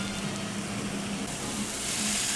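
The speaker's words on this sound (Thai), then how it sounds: "ซึ่งพอราดแกงกะหรี่ลงบน กระทะร้อน ก็จะเดือดแบบนี้เลยครับ" Curry sauce poured over hamburger steak on a hot pan, bubbling and sizzling in a steady close-up hiss with no voices over it.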